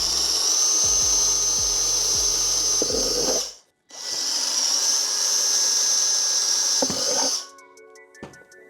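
A power drill bores small holes through a custom shop heater thermostat box, running in two steady high-pitched bursts of about three seconds each, loud and close, with a brief pause between them and no talk.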